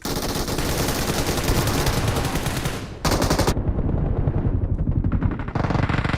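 Rapid automatic gunfire in the mobile battle-royale game PUBG Mobile, loud dense bursts of shots that pause briefly twice before resuming, close and continuous.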